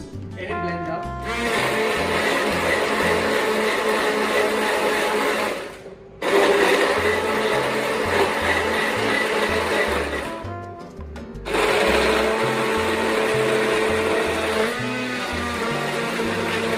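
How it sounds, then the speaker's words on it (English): A blender grinds a spice paste for marinating lamb loudly in bursts, cutting off twice briefly before whirring again, with a voice talking over the motor. "So as you blend it, you get that aroma of those spices just breaking down and mixing up"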